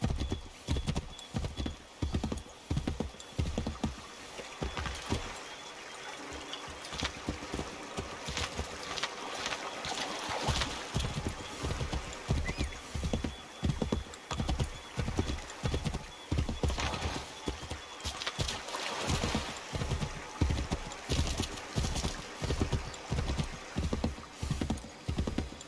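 Steady clip-clop of horse hooves at a riding gait in Assassin's Creed 3, a continuous rhythmic run of close, loud hoofbeats with a brief quieter stretch, plus occasional whinnies and background game sound.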